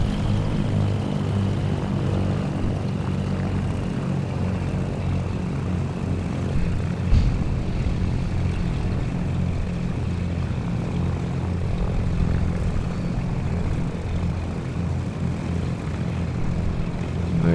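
The twin-engine Cessna C414 in a flight simulator game gives a steady, loud propeller drone as it takes off, a continuous even roar that holds throughout without talk.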